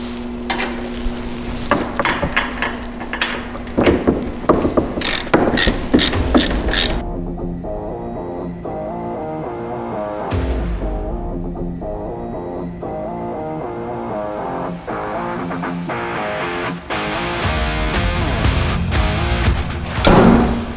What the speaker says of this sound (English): Now we'll grab our 9/16 ratchet and our 9/16 wrench, and we'll tighten the bottom row down.